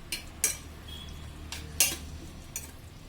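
Eggplant, tomato and dried fish thokku is mixed in a pan, with a few sharp spoon clinks and scrapes spaced irregularly over a faint background hiss, close and fairly quiet.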